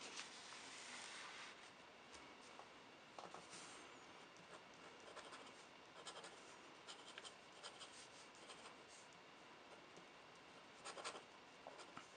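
A Jinhao fountain pen fitted with a flexi nib scratches quickly across paper in faint, continuous strokes, with small scratchy bursts here and there and no talking.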